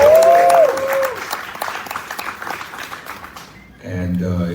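Audience applause and clapping at an outdoor rally for voting and justice, a broad wash of many hands that swells loudly at first, then thins over scattered voices, before a person starts speaking.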